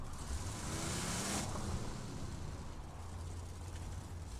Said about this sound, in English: let's grab a